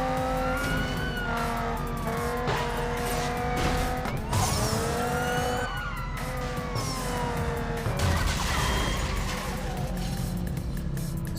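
A car accelerates in the Need for Speed racing game, its engine climbing through revs with repeated rising sweeps as it shifts gears. A siren-like wail and tyre noise run alongside, loud and continuous, with no talk.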